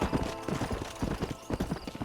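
Rapid, rhythmic hoofbeats clip-clop close by in Red Dead Redemption, a horse moving at a steady trot over a noisy background.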